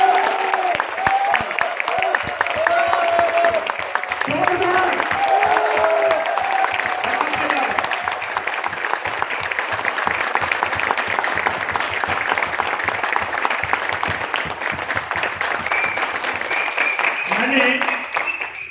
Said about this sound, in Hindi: एक बार गौतम वाली सर के लिए ताली हो जाए